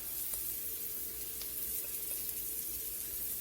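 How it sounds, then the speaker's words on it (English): Chopped garlic hits a hot pan and sizzles steadily, a continuous hiss of frying that stays even and close throughout. "Go ahead and add the chopped garlic."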